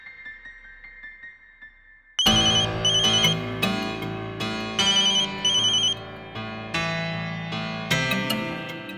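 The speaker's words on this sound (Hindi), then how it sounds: "तुम्हारा फोन बज रहा है।" A bright electronic phone ringtone plays a repeating melodic pattern, loud and close, starting after a couple of seconds of near silence with no talking.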